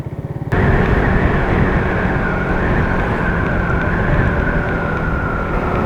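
An RFI 150 motorcycle engine holds at about 2000 rpm, starting with a few quick idle pulses before settling into a loud, steady, close-up drone.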